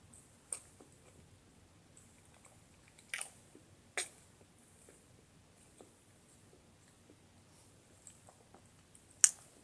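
A mango-flavoured roll snack being chewed close to the mic, with a few sharp crunchy bites and soft squishy chewing between long quiet gaps.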